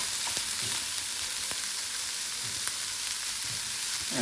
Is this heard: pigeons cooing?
no